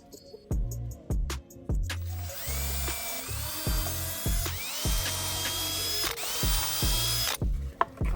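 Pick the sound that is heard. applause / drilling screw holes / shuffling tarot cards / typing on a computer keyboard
drilling screw holes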